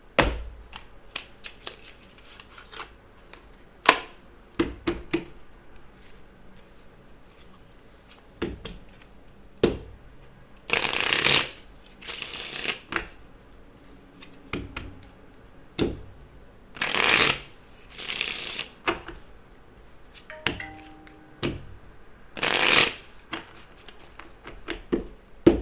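A deck of oracle cards is shuffled close by in repeated riffling bursts separated by quiet pauses, some bursts long and loud, others short taps and flicks.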